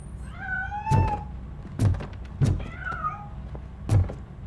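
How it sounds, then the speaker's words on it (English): A cat in the video game RoboCop: Rogue City meows several times in drawn-out, wavering cries as it escapes. The cries are close and clear, and soft thumps land between them. "That cat must be hiding inside."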